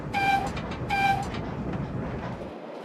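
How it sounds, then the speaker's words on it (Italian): A slow train runs on rails in Sardinia, sounding two short horn blasts before a steady rolling rumble continues and then stops abruptly. "Questo treno va così piano che finirò per arrivare tardi all'imbarco."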